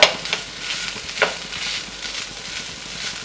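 Mashed boiled potato is stirred into masala in a hot pan, with scraping spoon strokes over a soft, steady sizzle. A few sharper clinks stand out early on.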